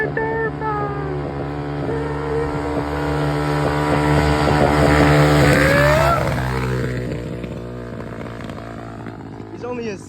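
A 2000 Honda XR600R dirt bike, held in second gear, passes nearby. Its single-cylinder engine rises in pitch and loudness as it approaches, peaks at about five seconds and then fades, with a voice talking underneath.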